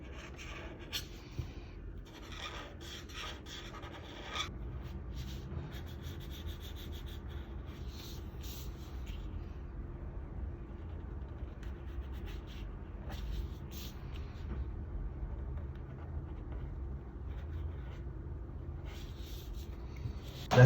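Grey alcohol markers scratch and stroke across paper while colouring a cartoon drawing, with close, steady rubbing and short scribbling bursts and no voice.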